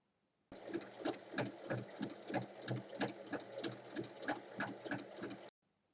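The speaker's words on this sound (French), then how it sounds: "On va venir la refermer en faisant une surpiqûre à 1 mm tout autour du sac." A sewing machine topstitches 1 mm from the edge around a small checkered fabric bag, its close, steady, rhythmic stitching chatter running for about five seconds before stopping into silence.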